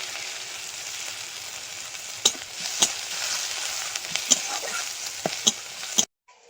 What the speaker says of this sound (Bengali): তেলের মধ্যে শুকনো লঙ্কা ফোড়ন দিয়ে দেবো, পেঁয়াজের কুচি,